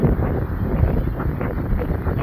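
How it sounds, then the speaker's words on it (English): Wind buffets an RV driving straight into a strong headwind on a road trip to the Grand Canyon, a constant low, rumbling roar with gusty swells throughout, and no voices. "we're driving like directly into that wind"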